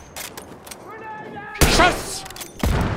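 Gunfire in the video game Battlefield 1, with sharp rifle shots and loud blasts spaced across the moment, while someone talks excitedly around them.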